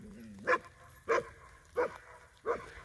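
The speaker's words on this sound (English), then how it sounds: "when the dogs start barking, the sheep all go into a ball, kind of" Livestock guardian dogs on a sheep farm bark four times at a steady, even pace, each bark sharp and moderately near, with quiet background between them.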